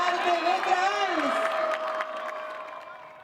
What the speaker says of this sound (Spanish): Fuerte el aplauso para la cooperativa Arte de Trans